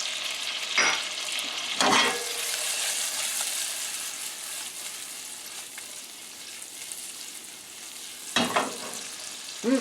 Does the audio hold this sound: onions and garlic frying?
yes